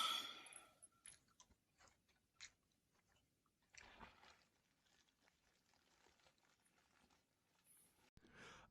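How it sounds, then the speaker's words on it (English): Faint background chewing and crunching, soft irregular bites and mouth clicks scattered across a quiet room tone, with a few louder crunches standing out briefly. "Who else is hearing the chewing in the background though?"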